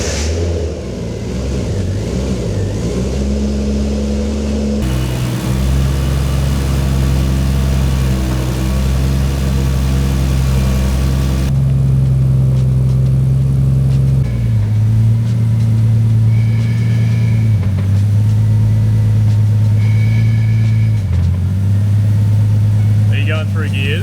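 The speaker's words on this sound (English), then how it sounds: "start her up, and hopefully it sounds and runs a bit better now that it's got the drive belt and the alternator turning" A turbo Barra engine in an R33 Nissan Skyline runs with a loud, steady low rumble, stepping up and down in pitch as revs change and it moves through gears, with brief voices over it.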